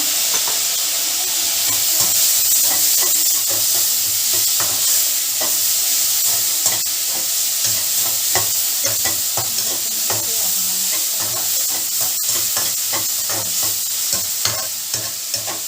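Tomatoes stirred and frying in palak potato gravy: a steady broadband sizzle with repeated scraping stir strokes of a spoon against the pan, close and continuous, no voices.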